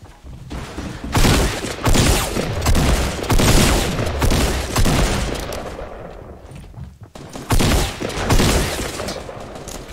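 Assault rifle fire from a Fortnite battle royale match rattles in dense, sustained bursts, loud and close, with brief lulls between volleys.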